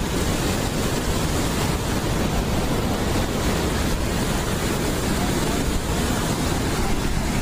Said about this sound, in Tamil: இந்த இடத்துல தண்ணி வந்து கொட்டுது பார்த்தீங்களா, அந்த இடம் தான் அருவி.